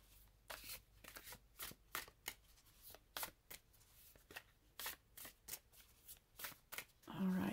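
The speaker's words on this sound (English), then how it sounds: "Let's see how they shuffle. Oh, yeah. They shuffle very, very nice." An oracle card deck being shuffled repeatedly in crisp riffling bursts, close and clear, with short pauses between each shuffle.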